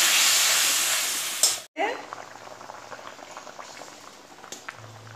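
Potatoes boil in water in a pot, producing a steady bubbling hiss that cuts off briefly and then returns as softer, quieter simmering bubbles nearby.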